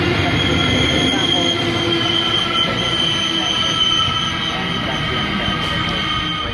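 A freight train hauling limestone wagons rolls past on the rails in Sydney, a loud continuous rumble with high metallic wheel squeal riding over it.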